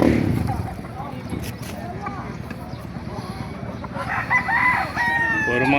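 Roosters crowing amid the bustle of a rooster and chicken market in Bocaue, with a loud crow rising near the end over steady crowd noise and people talking.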